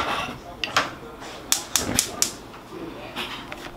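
A kitchen stove burner is switched on to reheat coffee, producing a close series of sharp, irregular clicks from the knob and igniter over a few seconds.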